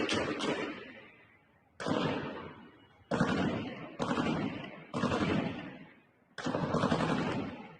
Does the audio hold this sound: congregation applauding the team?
no